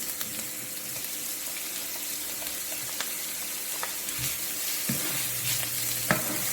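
Onions and pimento peppers sauté in a pot for Trinidadian smoked herring and tomatoes, a steady close hiss of frying with occasional soft stirring knocks and no voices.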